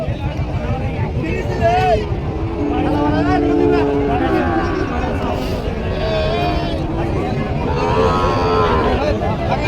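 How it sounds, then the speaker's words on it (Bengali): Bulls low and moo amid the crowd babble of the Panchbibi livestock market in 2025, with several drawn-out calls rising over constant chatter and people talking nearby. "এখানে কিন্তু খুবই সুন্দর দুটি কোয়ালিটি সম্পন্ন সার গরু দেখতে পাচ্ছি"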